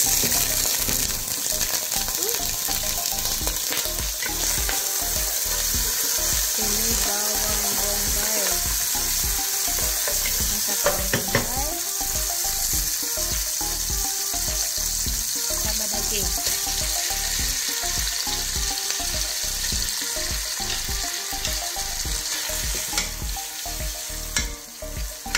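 Steady, loud sizzling of oil frying in a pan while cooking seafood jambalaya, continuing unbroken with repeated scraping and stirring strokes throughout.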